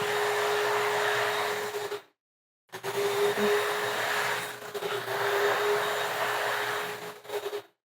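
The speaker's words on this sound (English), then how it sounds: "You're about to hear a dryer go off because we're in a shared space." A clothes dryer buzzer sounding off in a shared space: a loud, steady tone lasting about two seconds, a short silence, then a second long stretch of the same tone.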